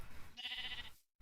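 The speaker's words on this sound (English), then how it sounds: "I see a sheep." A sheep in Minecraft gives a single short, wavering bleat, fairly clear and close, followed by a sudden cut to silence.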